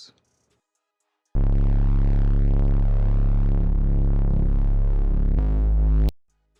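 A deep, steady synth sub bass holds a long sustained low note for several seconds, then shifts pitch briefly before cutting off, with a short quiet lead-in.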